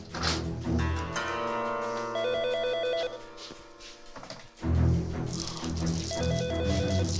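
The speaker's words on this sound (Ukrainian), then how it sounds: "Телефон дзвонить." A telephone rings in repeated electronic trills over background music, the ring pattern recurring several times at moderate volume.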